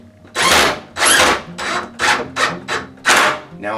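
Seven short bursts of a power drill drilling pilot holes into the edge of a pocket door, each whirring for a fraction of a second with brief pauses between, close and loud.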